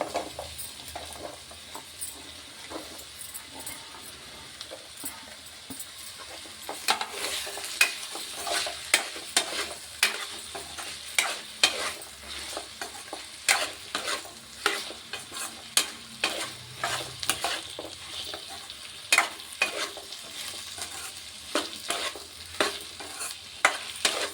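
Pieces of thorny brinjal fry in a pan with a low continuous sizzle, then rhythmic, fairly close stirring scrapes and taps join in and repeat steadily.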